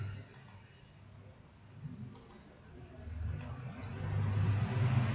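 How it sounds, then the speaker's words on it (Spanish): Three pairs of quick, crisp computer mouse clicks, spaced about a second or more apart, sit over a low steady room hum during a computer class, with no one talking. "Hago un clic."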